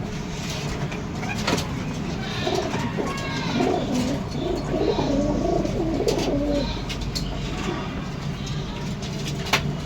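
Pigeons coo in soft repeated phrases through the middle of the scene, with a steady broadband background like traffic or an engine and a few light flutters, at a home pigeon loft.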